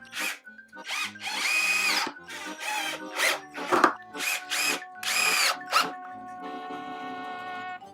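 Power drill driving 4x30 screws into pallet wood for a DIY pallet Christmas tree, a series of short whining bursts with pauses between them, loud and close, ending in a longer steady whir.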